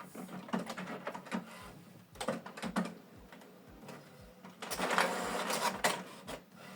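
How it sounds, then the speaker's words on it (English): An HP Smart Tank 5108 printer prints a document with rapid mechanical clicks and whirring carriage passes in uneven bursts, growing busier and louder toward the end, heard close up with no speech. "The second one is printing."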